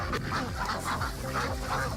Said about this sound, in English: Then it was time to feed the ducks, who, by the looks of it, seemed eager to eat.